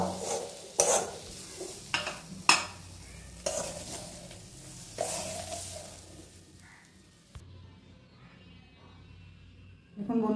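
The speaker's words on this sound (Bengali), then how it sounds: "এভাবে একটু মুচমুচে করে ভাজবেন, গ্যাসটা কম করে" Grass pea leaves fry in a pan on low gas, with a sizzle and several sharp stirring scrapes for the first seven seconds before the sound drops to a faint hiss, with a voice speaking softly in places.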